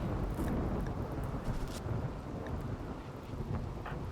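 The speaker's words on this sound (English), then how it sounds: "How often does one lightning storm hit people twice?" Rumbling thunder from a lightning storm in the video game RimWorld, a steady low roll with wind-like noise that stays loud and continuous throughout, with no talking.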